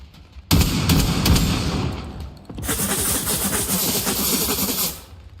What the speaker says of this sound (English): I just realized this is burst fire